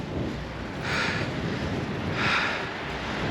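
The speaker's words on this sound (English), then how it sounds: "I'm almost being blown off the bike here, weaving all over the road with the wind" Steady roaring wind buffeting a microphone while cycling, gusts around 75 km/h, swelling into two stronger gusts, with no voices.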